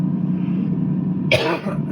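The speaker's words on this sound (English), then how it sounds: "excuse me, I've got a cough going" A single close cough bursts out over a steady low engine drone in a Cirrus flight simulator, followed by a brief rough throat sound.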